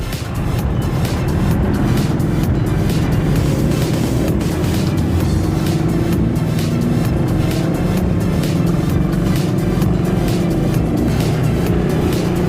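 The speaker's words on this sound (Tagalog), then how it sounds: "Yeah, traffic na naman dito, pero usual na dito to kasi city na rin naman tong Lipa" Congested city street traffic in Lipa City, Batangas, heard as a steady, loud rumble of car engines and passing vehicles that runs without a break, with no talk.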